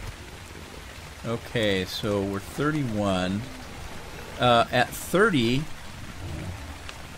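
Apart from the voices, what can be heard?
rain falling in the video game ARK Survival Evolved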